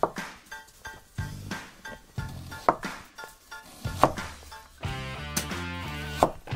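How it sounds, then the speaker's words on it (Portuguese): A knife slices a red onion very thinly on a board in quick, uneven taps, a close run of crisp cuts mixed with light clinks and kitchen clatter, while bacon crackles in the background. "Nossa cebola roxa vai cortar bem fininho."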